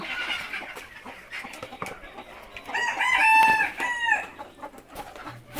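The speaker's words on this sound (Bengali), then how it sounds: "দেখুন এই যে মুরগি সব ছেড়ে দিলাম" Free-ranging desi chickens at feeding time, clucking steadily nearby with a loud rooster crow rising over the flock midway, no clear talk.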